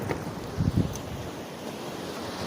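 Ocean waves wash against large rocks along the coast at Barangay Napsan, a steady roaring surf with wind buffeting the microphone and a brief louder surge.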